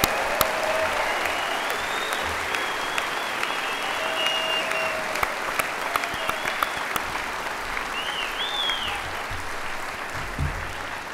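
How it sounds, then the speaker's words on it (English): An audience at a university degree ceremony applauds the graduates with steady, sustained clapping filling a large room, with a few sharper claps and faint cheers standing out. "Let's have a round of applause for these graduates."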